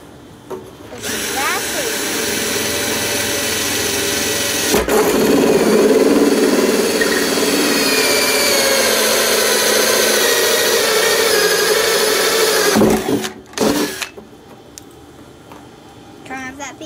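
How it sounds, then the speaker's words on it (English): A power drill bores a hole in a rain barrel, a loud, close, steady whine lasting about twelve seconds before stopping abruptly, with a brief voice near the end. "Alright, so now we'll drill the top hole here."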